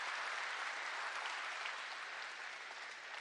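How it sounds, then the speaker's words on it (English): Rally crowd applauding factory workers inside a manufacturing plant in Walker, Michigan, a steady wash of many hands clapping, slightly distant and continuous with no speech over it. "Let's give a round of applause to the people who are making the engine of America getting up and going."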